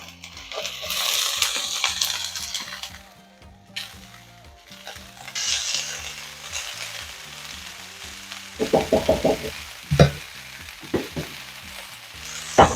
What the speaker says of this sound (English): now it's time to go ahead and add in our shredded cabbage, also known as coleslaw